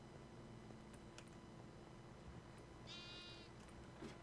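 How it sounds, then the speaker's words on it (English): A single sheep bleats once, faint and brief, in the Minecraft Better Than Wolves mod, over a quiet steady background hum. "I can hear the baby sheeps."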